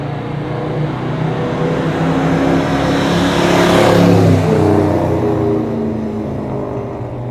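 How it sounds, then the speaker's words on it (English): A 1981 Chevrolet El Camino with a redline of about 5,000 RPM accelerates hard through its gears. A loud engine roar climbs in pitch, peaks as the car draws closest, then fades slightly as it pulls away, with no talking. "First gear pulls really strong, second gear even stronger, laying rubber in both those gears."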